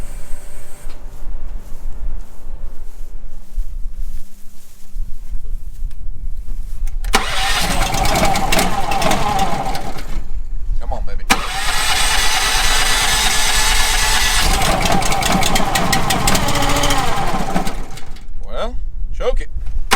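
A small engine cranks and catches after a quiet stretch, running loud and rough with a brief stumble, then dying away as a voice speaks near the end.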